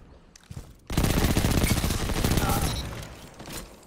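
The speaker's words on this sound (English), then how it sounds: "You hear an Ikelos SMG?" Rapid automatic fire from an Ikelos SMG in Destiny 2's Rumble mode, a dense loud burst of shots lasting a couple of seconds after a few isolated pops.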